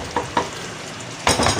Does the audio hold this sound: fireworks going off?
no